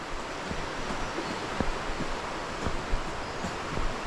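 The River Ribble runs fast after rain, a steady broadband rush of flowing water with no voices and only small surges in the wash.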